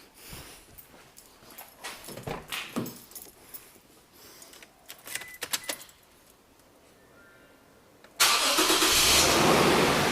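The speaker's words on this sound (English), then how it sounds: "we're going to go ahead and start the car" Keys jingle and rattle near a car, then after a pause the engine cranks and catches, settling into a loud, steady idle for the last couple of seconds.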